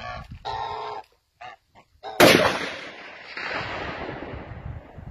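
A single loud gunshot from a KDEX .50 caliber rifle cracks sharply and rolls off into a long fading echo, after brief talk and a few short noises beforehand.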